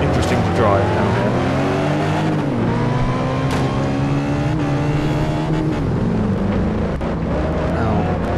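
Ariel Atom sports car driven in the racing game Test Drive Unlimited 2, its engine droning loud and steady with rising and falling revs as it accelerates and shifts, a constant close roar that never lets up.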